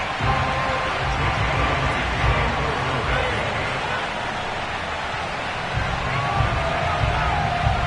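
A stadium crowd roars and cheers in an EA Sports football video game before a matchup against the Philadelphia Eagles, a dense, steady wall of crowd noise throughout with a commentator talking over it.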